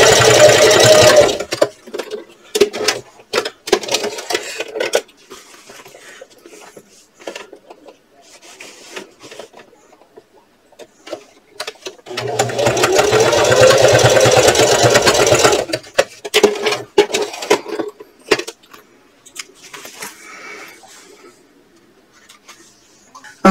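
A sewing machine bastes a purse seam at a 1/8 inch allowance in short, stop-start bursts, with one longer steady run midway and quiet pauses between.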